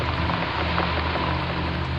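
Heavy rain pours down outside a house at night, a dense continuous hiss and patter, close and loud throughout, with a faint low hum beneath.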